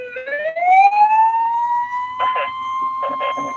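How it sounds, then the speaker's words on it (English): A siren wails close by, its tone sweeping upward and then holding steady at a high pitch, while short bursts of voices break in over it. "You hear the sirens?"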